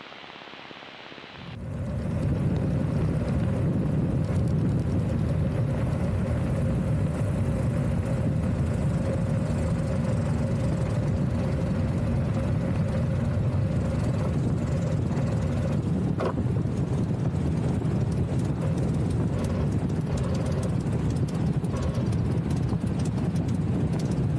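An 82-year-old Aeronca taildragger lands, its engine and wind noise roaring loud and steady after a quiet start, with a rumbling, bouncy rollout and no talking.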